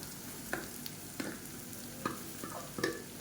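Mashed raw banana and onion fried in oil, with soft continuous sizzling broken by several sharp spatula scrapes and stirs, close and fairly quiet.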